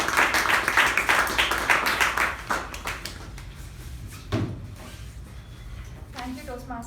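A Toastmasters meeting audience gives a round of applause for the table topics master, dense clapping for a few seconds before trailing off into scattered taps and room noise.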